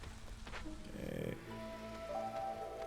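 Drizzle season rain in the settlement-building game Against the Storm, a soft steady patter of light rain with faint background ambience and game tones layered underneath.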